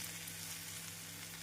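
Onions and tomatoes fry in a pan for a dried-fish thokku, a soft, steady sizzle with a faint low hum beneath it, heard close and alone.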